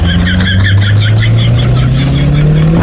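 A cartoon motorbike engine speeds up during a race between animated characters, a loud continuous buzzing drone whose pitch climbs steadily, with a rhythmic pulsing overtone.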